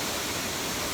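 Steady, dense roar of falling water at Demodara Ella waterfall, close and continuous with no breaks, filling the whole scene like broad rushing noise.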